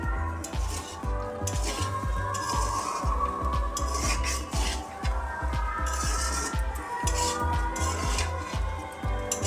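Fried rice being stirred and mixed in a pan with a utensil, repeated scraping and clattering strokes in an uneven rhythm, close and fairly loud, with a faint sizzle beneath.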